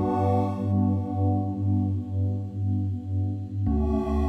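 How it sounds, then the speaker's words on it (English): Sustained keyboard chords with a soft synth pad layered over them swell and alternate slowly, smooth and full, with no one speaking. "I kind of added a pad which had the same chords kind of layered on top of that"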